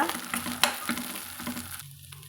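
Chopped cluster beans are sautéed in a pan, a close, fairly quiet sizzle with a run of rhythmic spatula scrapes and taps that stops abruptly near the end.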